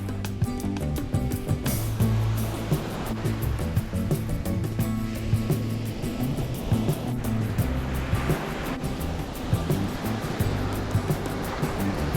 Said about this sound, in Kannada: ಅಲೆಗಳ ಸದ್ದು